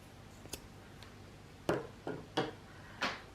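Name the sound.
scissors cutting cotton clothesline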